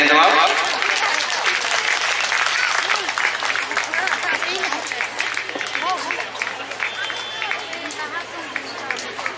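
An audience at a church felicitation ceremony in Bramanmara Parish claps in a sustained burst of applause that gradually eases off, with crowd voices murmuring underneath.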